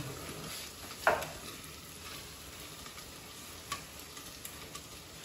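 Ground meat spaghetti sauce sizzles in a pan with a soft continuous frying hiss, punctuated by a sharp utensil clink near the start and a few faint ticks later.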